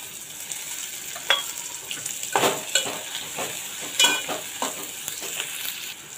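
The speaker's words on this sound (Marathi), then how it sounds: "थोडं परतून घेणार आहे। शिमला मिरची घेतली होती ती घालणार आहे।" Capsicum sautés in oil in a pan for tondli rice, with a steady sizzle broken by repeated scraping strokes of a spoon stirring the vegetables close up.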